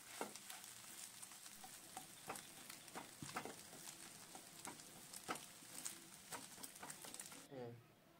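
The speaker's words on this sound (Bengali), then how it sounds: "এবার ডিমটা ভুর্জি করে নিচ্ছি।" Eggs being scrambled and fried into bhurji in a pan for egg tadka: steady close sizzle with repeated scraping and stirring clicks throughout, stopping abruptly near the end.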